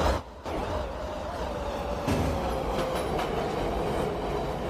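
A train runs along the tracks in the Roblox game, producing a steady, close rumble of rolling wheels with faint rhythmic clicks that continues throughout.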